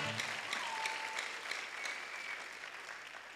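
A church congregation at an evangelistic service in Rwanda breaks into steady, full applause, with many hands clapping continuously and a faint tonal note drifting underneath.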